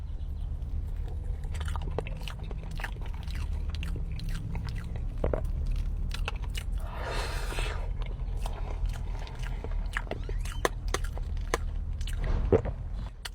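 Close, moist chewing and crunchy bites of potato casserole made with mashed potatoes and bacon, repeating irregularly throughout, with a brief rustle midway and no speech.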